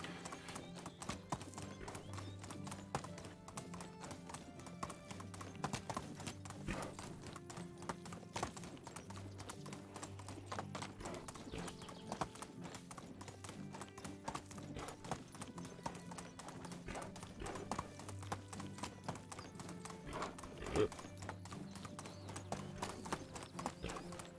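A horse gallops in the medieval village-life game Medieval Dynasty, its hooves clip-clopping in a steady fast rhythm throughout, with a brief whinny, moderately loud and unbroken.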